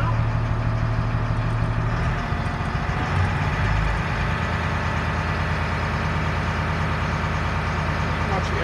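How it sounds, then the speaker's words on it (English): Military LMTV truck idling steadily up close, its diesel rumble continuous while the air compressor runs to rebuild brake system pressure, someone speaking over the engine. "The compressor should be online now."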